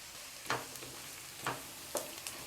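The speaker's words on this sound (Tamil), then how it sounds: "வெங்காயம் வதங்கும் போது கூடவே வெண்டைக்காயும் வதக்கிட்டே இருங்க." Chopped okra and onion sauté together in a pan for a Tamil-style gravy, a faint steady sizzle broken by three soft scraping stir strokes.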